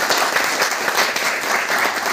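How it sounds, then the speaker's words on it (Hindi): Sustained applause from an audience welcoming a guest at a formal university gathering, dense steady clapping throughout without pause. "जोरदार तालियों से उनका स्वागत है।"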